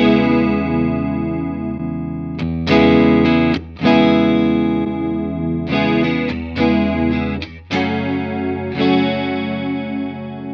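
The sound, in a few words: thick wide stereo chorus pedal effect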